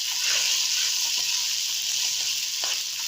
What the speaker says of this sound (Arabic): هنبدا بقى ننزل بالرز بعد ما غسلناه وصفيناه. طبعا لازم نقلب كويس جدا بحيث الرز كله يتغلف بالزيت